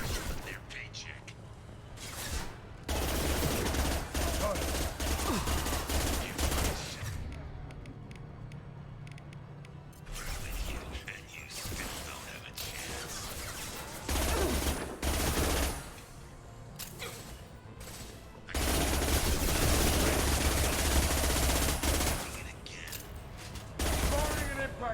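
Bursts of gunfire in the shooter Mass Effect 2 Legendary Edition, loud rattling volleys separated by quieter gaps, with voices talking in between.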